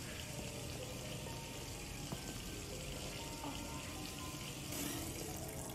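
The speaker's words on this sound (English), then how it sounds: "I wonder what happens if you don't stop the water" Running tap water filling a bath in the Detroit: Become Human video game, a continuous steady rushing splash with a faint hum underneath, moderately loud and unbroken, with no voices.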